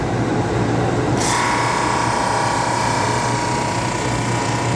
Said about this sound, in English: So that is a planer.